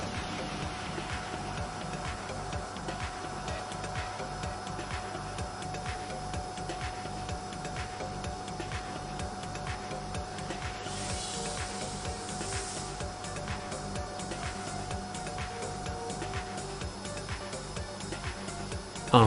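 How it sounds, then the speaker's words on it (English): Optibelt Cut II sleeve cutting machine slowly cutting a belt to width: a steady mechanical whir with a fast, regular ticking rhythm and faint hiss, continuous and fairly quiet throughout. "Now start cutting the belt slowly."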